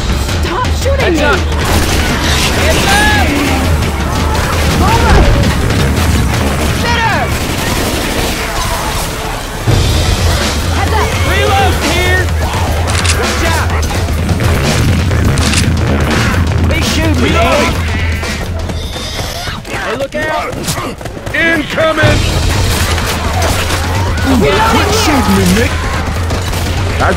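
Gunfire and crashing impacts from a Left 4 Dead 2 zombie shooter session fill the mix, dense bursts over a continuous game soundscape, loud and busy, with players talking excitedly over the action.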